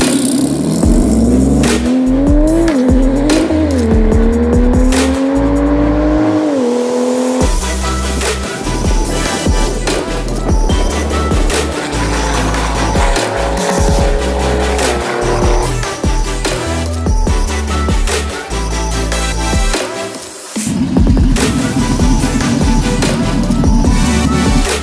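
A tuned SCC 500 by PP-Performance at a Lahr 2018 tuning event roars loudly through rising revs and gear changes, with tire squeal and skidding and no talk over the engine.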